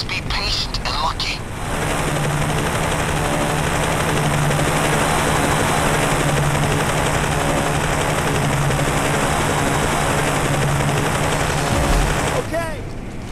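A helicopter in the video game PayDay 2, a loud, steady rotor drone with a rhythmic low thump that holds for most of the stretch after a brief start, up close.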